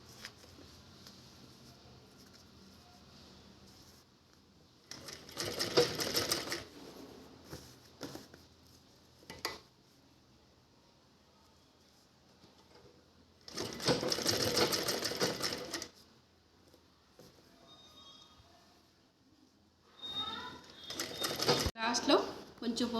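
A sewing machine stitches the folded hem of a table cloth made from a shopping bag. It runs in three separate bursts with quiet pauses in between, and a voice talks faintly in the gaps.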